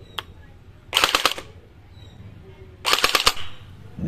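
A Cyma MP5 gel blaster fires on full auto in two short bursts of rapid, sharp mechanical rattling, each about half a second long, close and loud against a quiet room.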